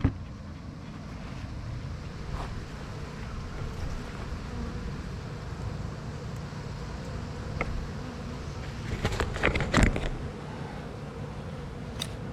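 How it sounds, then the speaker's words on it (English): Steady wind rushes and rumbles across the mic for the whole stretch, with a few brief louder gusts and knocks near the end. "A little windy today."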